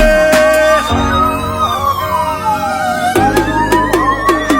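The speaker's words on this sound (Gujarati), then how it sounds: "એલર્ટ નું સાયરન વાગે" An alert siren wails with a rising and falling tone over a pulsing music backing in a Gujarati song, loud and up front, with sharp percussive hits toward the end.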